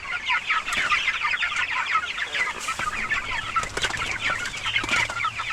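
A flock of meat chickens clucks and chatters continuously inside a chicken tractor, a dense close mix of overlapping calls alone on a rainy morning, with a faint low hum underneath in the second half.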